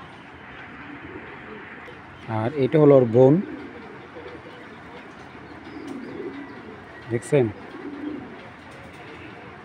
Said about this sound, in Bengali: এটা হলো নর কবুতর